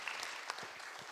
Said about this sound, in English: I think we should clap for this panel.